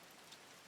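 Rain pours steadily in the cozy farming game Coral Island, a soft, even hiss of drops with no break, quiet and alone.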